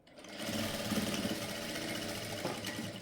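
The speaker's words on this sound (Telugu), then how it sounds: "ఇదిగోండి ఇలా కిందికి స్టిచ్ అయితే వేసేసుకోవాలి" Sewing machine stitching darts on the front panel of a blouse, a steady continuous whirring run of the needle that holds at an even pace throughout, close and clear with no talking.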